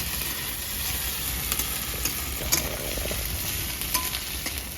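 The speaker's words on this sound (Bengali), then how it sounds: "ভালো করে ভেজে দেবো।" Green chillies frying in a hot pan for a carrot, potato and pea dish, giving a steady close sizzle with a few clinks and stirring scrapes, and no voices.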